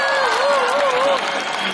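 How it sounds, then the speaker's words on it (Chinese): Concert audience applauding at a 2011 Luoyang show during the encore, steady close clapping that holds throughout, with a singer's voice talking over the top. "您的掌声，您这么热情"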